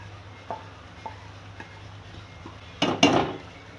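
Crushed onions added to a pot of chicken korma and stirred with a spoon: a few soft taps over a low steady hum, then two louder scraping, sizzling bursts near the end.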